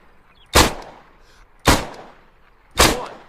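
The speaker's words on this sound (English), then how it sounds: "we're gonna fire 3 times in the little heart area from this angle at point blank with the Zuber" Three loud, evenly spaced gunshots from a Zafir 7.62 machine gun in the ArmA 3 video game, fired at point blank, each a sharp crack with a short decaying tail and no talk between them.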